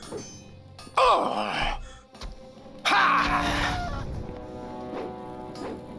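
A chicken clucks and squawks in bursts during a melee fight in a medieval fantasy role-playing game, its loud cries breaking out twice against clashing combat noise.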